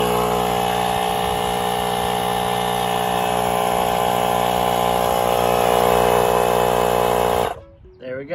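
A Milwaukee M12 compact inflator, model 2475-20, pumps air with a loud, steady, buzzing motor whine held close for about seven seconds, then cuts off abruptly into near silence.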